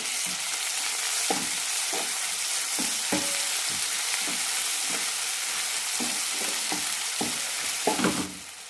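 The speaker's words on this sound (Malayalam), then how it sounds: "തക്കാളി നന്നായി വഴറ്റാം" Tomatoes sauté with ginger garlic paste, mint and coriander leaves for a broken wheat biryani masala: a steady close sizzle broken by regular spatula scrapes and taps, easing off at the end.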